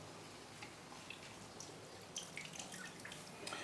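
Water drips and trickles from wet potting media being squeezed out by hand, a faint scatter of small irregular drops and splashes over a quiet background.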